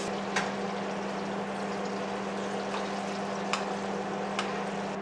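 Garlic and butter sizzle in a pan alongside a rib eye steak, making a low continuous frying hiss with a few faint crackles and no speech.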